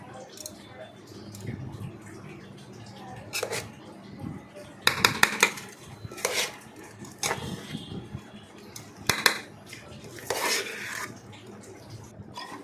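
Rice for mutton biryani stirred and folded in a pot, giving soft scraping and rubbing strokes in irregular bursts, with a few sharper scrapes against the pot sides and faint room noise between them.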